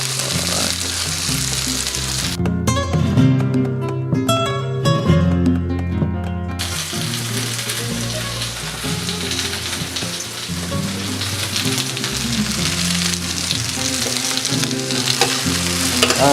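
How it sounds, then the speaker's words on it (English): Red pepper frying in a paella pan, a loud, dense crackling sizzle that carries on throughout, with stirring and shaking of the pan partway through and no voices. "we're just gonna move it around a bit so that the pepper starts cooking."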